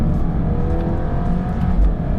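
A stage 3 tuned Alfa Romeo Giulia engine revs hard under load, a loud, steady, close mechanical drone with a gritty low rumble and no voices.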